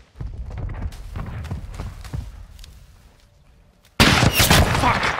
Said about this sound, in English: AQ sniper on the roof.